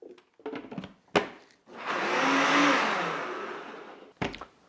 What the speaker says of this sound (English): So we're just gonna stop the blender, get your hot peppers in there as well,